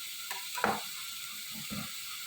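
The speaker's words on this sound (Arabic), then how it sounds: "الطاسة بتاعتنا سخنت ونزلنا فيها بالبصل" Onions sizzle in a hot frying pan, giving a soft, even crackle at low volume with a few faint stirring scrapes.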